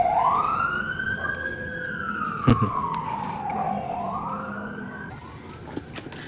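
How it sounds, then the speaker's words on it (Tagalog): A wailing fire siren rises and falls in pitch across the clip, moderately loud over steady background noise, with a brief sharp knock midway. "May ano po ng sirena eh."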